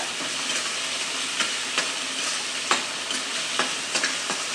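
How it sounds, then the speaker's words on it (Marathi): Steady, close sizzling of onions frying in a pan, with occasional soft scraping taps of stirring. "कांदा फ्राय होतोय चांगला"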